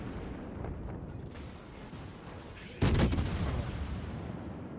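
Warship guns fire in World of Warships with one sudden heavy blast from the Neptune's rear turrets, followed by a rolling rumble over steady engine and ambient battle noise.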